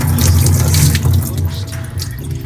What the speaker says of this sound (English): Now we're gonna try to get rid of some excess water.